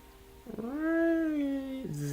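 A pet cat gives a single drawn-out meow lasting over a second, close and clear, rising then falling in pitch, with faint room noise and no talking.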